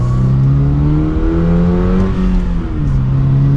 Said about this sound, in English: And let's give it another acceleration.